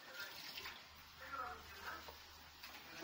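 Water poured into tarhana soup in a pot, a soft splashing and trickling heard faintly in a home kitchen.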